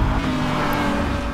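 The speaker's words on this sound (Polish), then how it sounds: "A słychać tutaj dźwięk silnika McLarena F1." A McLaren F1 engine in Need for Speed Hot Pursuit 2010 runs at a loud, steady high-rev drone, close and continuous for a brief moment, with no voices over it.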